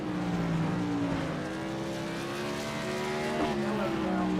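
Modified race car spinning out in turns 3 and 4 at Langley Speedway in iRacing, engine drone and smeared tyre squeal loud and continuous across the moment, with commentary talking over the noise.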